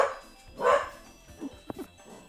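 A pet dog named Miles barks indoors, reacting as if someone is at the door: a loud burst of barking, then a few shorter, fainter yips and a sharp bark, each separated by brief pauses.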